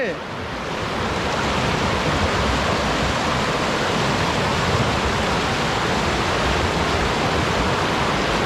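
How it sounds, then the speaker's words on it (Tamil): Loud, steady rush of flowing water, a constant broadband hiss with no pauses, close by and filling the whole stretch. "இதை பாருங்க, தண்ணி ஓடுது."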